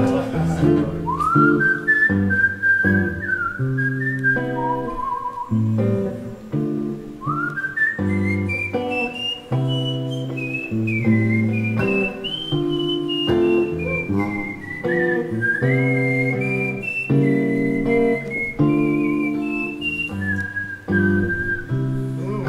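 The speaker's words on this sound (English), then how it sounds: "Do we want to whistle so loud?" Loud, clear whistling carries the melody of a song through a live cover performance at The Lighthouse, gliding between sustained notes over steady low instrumental accompaniment.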